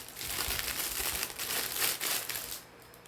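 Crinkly plastic packaging around a set of spatulas rustles and crumples steadily for about three seconds as scissors open it, close and fairly loud with a brief lull near the end.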